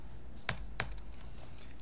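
Typing on a computer keyboard at a desk, two crisp distinct key clicks followed by softer scattered taps over a low steady background hum.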